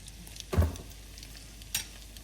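Shrimp sizzling in a pan for shrimp scampi, a steady soft fry broken by two clattering stirs, the first louder.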